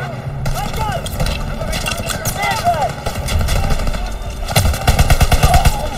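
Machine gun fire in the video game Call of Duty, rapid loud bursts rattling close by with engine rumble beneath, while excited players talk over the shooting.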